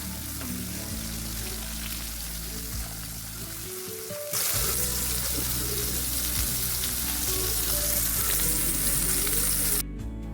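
Seer fish frying in oil in a pan over a medium flame gives a steady, close sizzle that grows louder partway through and then cuts off abruptly near the end.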